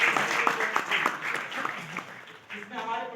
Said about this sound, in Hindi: तो एक बार जोरदार तालियां।